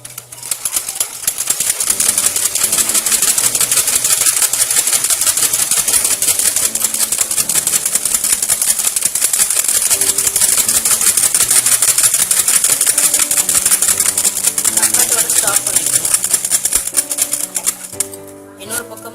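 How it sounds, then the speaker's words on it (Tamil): A sewing machine runs continuously while stitching a curved seam on a petticoat, its fast, even mechanical rattle loud and close throughout before stopping near the end. "வளைவா ஒரு தையல் போட போறோம்."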